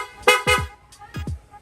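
PIAA loud horn on a Honda Click 125 scooter, sounded in two pairs of short, loud honks with a brief pause between the pairs.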